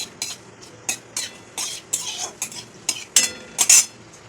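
A metal spoon scrapes and clinks around a pan while bay leaf and cumin temper in hot oil, a run of irregular short scraping strokes, close and clear, with no voices.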